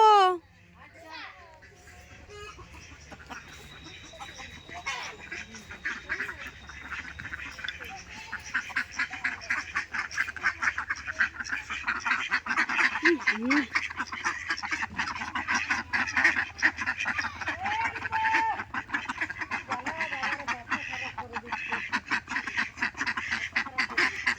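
Ducks quack and honk repeatedly in a noisy flock, growing louder and busier over time, mixed with children's voices and nearby talk.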